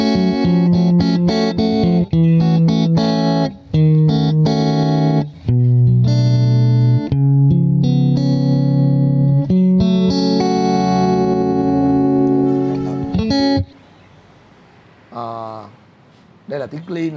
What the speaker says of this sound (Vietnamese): Đây là tiếng clean ha.